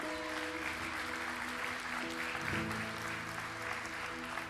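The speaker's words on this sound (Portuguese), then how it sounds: "Quem crê assim pode dar uma salva de palmas para o Senhor." Congregation in a church breaking into applause, a dense crackle of many hands clapping over sustained keyboard chords, fairly quiet and steady throughout.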